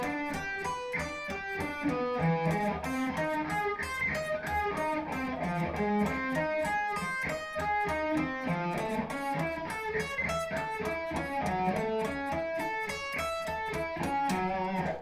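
Distorted electric guitar sweep picking, fast continuous streams of arpeggiated notes rolling up and down in an even, steady rhythm, loud and unbroken for the whole stretch with no voices.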